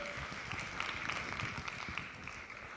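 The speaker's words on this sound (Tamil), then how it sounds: "நீங்கள் அவர்களுக்கு உங்களுடைய பலத்த கரகோஷத்தை கொடுத்து உற்சாகப்படுத்துமாறு கேட்டுக்கொள்கிறேன்" Audience applause at a Tamil debate (pattimandram) during a Thai Pongal festival in Cergy, a steady wash of clapping from a crowd, fairly faint and even throughout without a clear peak.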